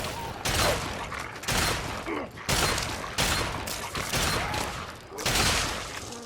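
Repeated bursts of Fallout 3 gunfire, a 10mm SMG and raider rifles in a PS3 firefight, come as loud, close volleys about every second, each a dense rattling crack with a short gap between.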